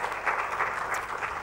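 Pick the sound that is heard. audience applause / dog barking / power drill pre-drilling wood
audience applause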